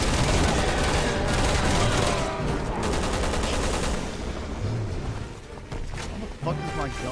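Gunfire in the video game Resident Evil 6, with dense sustained shooting and a steady rattling texture that thins out toward the end, while a voice talks over it.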